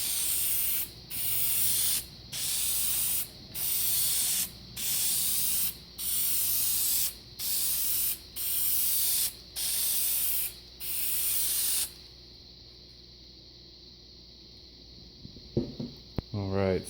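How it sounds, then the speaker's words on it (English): Spray lacquer hisses onto textured patina copper in about nine short, even bursts with brief gaps, followed by quieter background hum and a few handling clicks. "now it's ready for spray"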